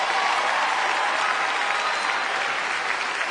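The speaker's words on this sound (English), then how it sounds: "Give her a big round of applause, everybody." A live ventriloquist show audience applauds a young woman volunteer called up from her seat, a loud, even wash of clapping filling the whole stretch.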